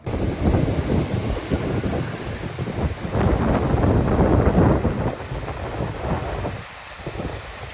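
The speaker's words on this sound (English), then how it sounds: "That's right, the wind picked up, it was violent, and it started to make us pretty uneasy." Strong, violent wind roars and buffets the microphone in a continuous loud rush, swelling in gusts before easing slightly near the end.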